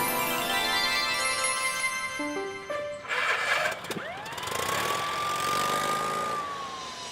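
A cartoon police car: stepped synthetic tones give way to an engine rev and a rising, sustained siren wail, loud and alone.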